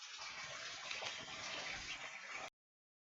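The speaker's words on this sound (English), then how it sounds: "I see water flowing from the ceiling back there. That's what we're hearing." Water trickles and splashes down from a crack in a cave ceiling, a steady hissing patter echoing in a large rock chamber, continuous and fairly faint before cutting off abruptly.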